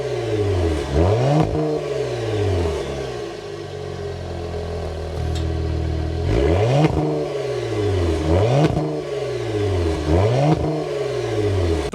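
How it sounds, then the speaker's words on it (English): A 2026 Cadillac CT5-V performance sedan's engine revs repeatedly through its exhaust, loud rising and falling blips with a steadier idle stretch in the middle, close by and without talk. "start it up so you can hear that exhaust now"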